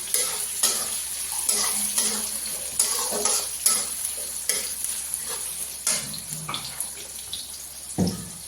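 Onions fry in a pan with a bright, steady sizzle, broken by frequent spatula stirs and scrapes at an irregular pace, close and fairly loud with nobody speaking.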